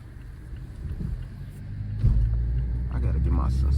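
Cars street racing rumble past nearby, engine noise swelling louder toward the end as they accelerate, with a person talking over the traffic.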